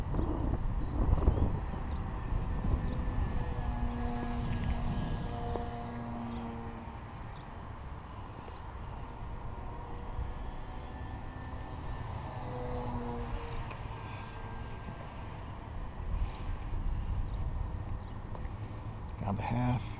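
A PZ S.E.-5a model airplane makes a pass on its maiden flight, its engine a thin steady whine that rises and falls in pitch as it flies by at a distance, with outdoor wind noise.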